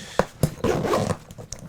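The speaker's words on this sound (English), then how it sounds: "let's say I want to zip up my bag again" Someone zips up a Wandrd Stratus Photo 18L camera backpack, with a few sharp tugs followed by a longer rasping pull of the zipper and short scrapes at the end, close and loud.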